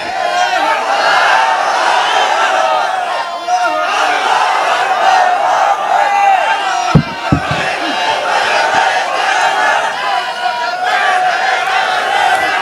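A big crowd at an Islamic mahfil in Raiganj, Sirajganj, Bangladesh keeps up a loud, sustained chant of the takbir 'Allahu Akbar', swelling in waves, with a few sharp knocks partway through.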